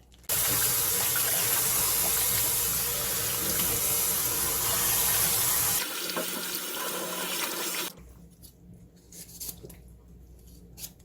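Salted napa cabbage is rinsed under a strong, steady stream of running tap water for several seconds. The flow then softens, and quieter splashing and dripping close to hand follow after it stops.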